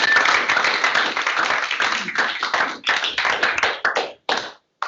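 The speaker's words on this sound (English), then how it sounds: "Let's give them a round of applause." Audience applause at a sponsor thank-you during a Microsoft Office 365 meetup presentation, dense clapping close by that thins into scattered claps and stops abruptly near the end.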